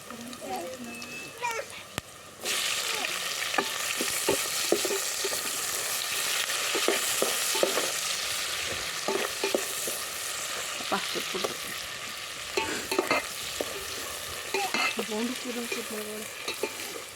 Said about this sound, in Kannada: ಈಗ ಇದು ಆನಿಯನ್ನು ಒಂದು ಸ್ವಲ್ಪ ಚೆನ್ನಾಗೆ ಬ್ರೌನ್ ಕಲರ್ ಬರಬೇಕು